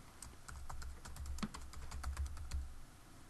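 Quick, quiet keystrokes as a workspace name is typed on a computer keyboard, a soft irregular run of clicks lasting about three seconds.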